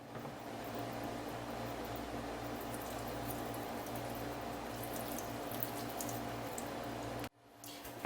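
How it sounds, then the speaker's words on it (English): A PowerMac 7500 logic board rinsed with distilled water, giving a steady, fairly faint splash and trickle that stops abruptly near the end. "This is just a rinse. Let's rinse the back of it too."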